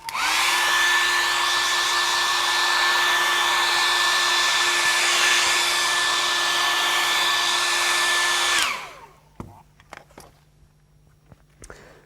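A hair dryer blows steadily and loudly onto a wet painting for about nine seconds, then switches off, leaving only faint handling noises.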